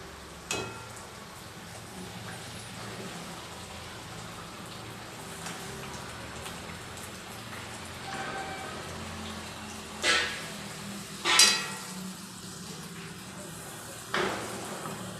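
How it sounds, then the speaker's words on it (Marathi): Puris deep-frying in hot oil over a medium flame give a steady, low crackling hiss throughout, broken by a few sharper splashes and spits near the end. "मीडियम गॅसवर तळा"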